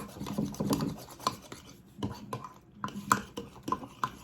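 A whisk scrapes and rasps around a bowl while mixing sourdough discard waffle batter, making a steady series of close scraping strokes with sharper clinks against the bowl.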